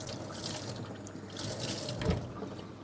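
Running tap water splashes over a new pink sponge being rinsed in a sink, a steady mid-level wash of flowing water with a brief louder surge near the end.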